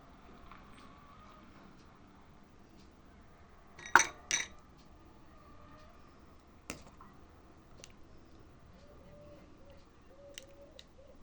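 Dishes and cutlery clink now and then in a quiet room as sheep's-milk rice pudding is portioned onto plates: a sharp pair of clatters, then scattered lighter taps of metal on plate.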